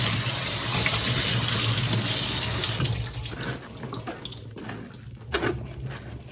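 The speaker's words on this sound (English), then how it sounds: "I'm going to strain it, and I'm going to run some cold water over it" Cold tap water gushes into a sink over strained soya chunks, steady and close for about three seconds, then tapers off into scattered drips and light clatter.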